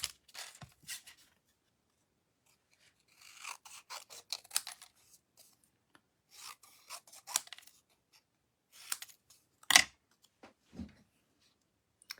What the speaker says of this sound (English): I'll snip this a little tiny bit